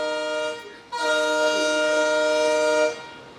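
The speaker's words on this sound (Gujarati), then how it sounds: "આવી ગઈ આ ટ્રેન" A loud, sustained train horn sounds close by for about two seconds as a train arrives near Rajkot, following a shorter blast, over low rumbling.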